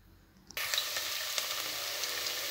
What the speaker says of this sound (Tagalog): Igisa na natin ngayon mga kabagyan.